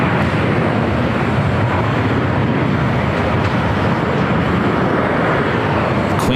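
An Iberia airliner arriving at LAX roars continuously with broad, loud jet noise and a steady rumble, no voices.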